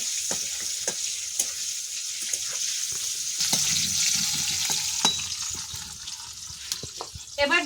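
Bitter gourd sizzles in hot oil in a pan with a little salt: a continuous bright fry hiss broken by frequent sharp crackles and pops, with a brief clatter of stirring near the end.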